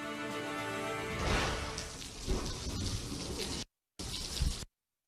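Heavy rain pours steadily during flooding in Houston, a loud, dense hiss with thicker bursts, cut off abruptly twice.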